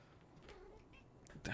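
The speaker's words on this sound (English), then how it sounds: "It is a tough life being a cat, isn't it?" Pet cat giving a short meow near the end, faint and close, after a few soft rustles in an otherwise quiet indoor room.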